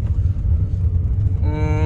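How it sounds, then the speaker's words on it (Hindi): A Maruti Alto K10 engine revs as the car pulls away with clutch and throttle, a close, low rumbling drone that rises into a steadier tone near the end. "गाड़ी को उठाने के लिए क्लच के साथ साथ आपको ठीक ठाक रेस देनी पड़ती है"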